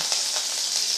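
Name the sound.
curry leaves sizzling in hot oil for tempering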